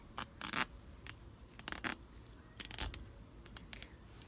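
Scissors snipping and picking at the stitching of a trouser zipper during a clothing alteration, a series of short, sharp cuts and scrapes in irregular bursts, close and fairly quiet.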